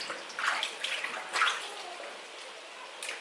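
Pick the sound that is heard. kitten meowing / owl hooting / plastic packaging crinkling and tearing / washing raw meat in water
washing raw meat in water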